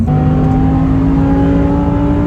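An Audi R8 V10 engine revs hard and close, a loud sustained tone that holds and climbs slowly, with no talk.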